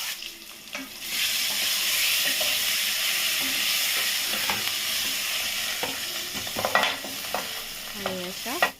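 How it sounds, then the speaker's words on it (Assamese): Eggs and potatoes fry steadily in hot oil, a loud continuous sizzle with occasional stirring clinks and scrapes of a utensil throughout, no voices. "এইপিনে মই কণী আৰু আলুখিনি ভাজি উঠাম"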